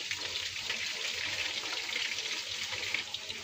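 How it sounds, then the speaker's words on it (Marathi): About three spoonfuls of oil heat in a pan for fried rice, giving a steady, close hissing sizzle that holds evenly throughout with no voices. "तेल चांगलं गरम होऊ द्यायचं आपण।"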